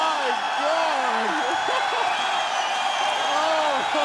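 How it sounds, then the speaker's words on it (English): A fight crowd at the Ice Wars event roars on its feet in a steady, dense wash of cheering and whooping, while an excited commentator talks over it throughout. "The crowd is on their feet."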